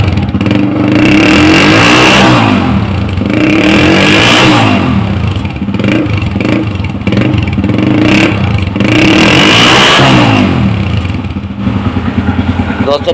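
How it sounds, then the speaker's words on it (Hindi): A modified 1992–1999 Honda CG 125 motorcycle engine with a modified silencer runs close and loud, rising and falling through several revs and then settling into a rhythmic idle thump, with someone talking over it. "बाइक मैंने स्टार्ट कर दी है, माशाल्लाह बहुत प्यारा साउंड है, बिल्कुल सुने बाइक।"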